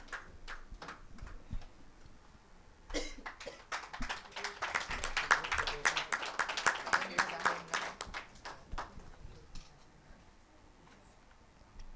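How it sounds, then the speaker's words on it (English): Scattered, moderate clapping from a small audience at a women entrepreneurs' event builds into a brief round of applause and then thins out to a few isolated claps, fairly quiet overall. "A huge round of applause to Mrs. Dakshini."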